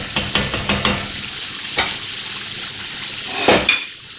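Mutton karahi fries in plenty of oil in a pan, with a steady sizzle under repeated scraping and stirring clinks of a utensil against the metal.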